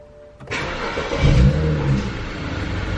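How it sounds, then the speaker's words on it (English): A BMW E90 sedan's engine cranks and fires after a faint hum, then settles into a loud, steady idle with a brief swell of revs, recorded from inside the car. "My issue is if I start the car."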